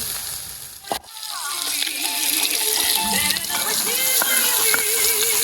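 Brine poured into a simmering soup pot outdoors on a frozen lakeshore in winter: a sharp splash, then continuous bubbling and sloshing liquid close by, with faint background noise.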